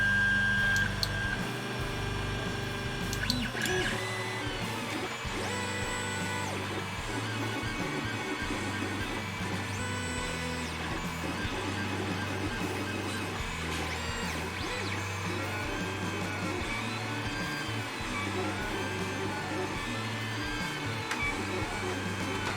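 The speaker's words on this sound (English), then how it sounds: "The Ender 3 is pretty loud." Creality Ender 3 3D printer running: steady whirring fan noise with warbling, chirping stepper motor tones rising and falling, continuous and moderately near throughout, with no talk.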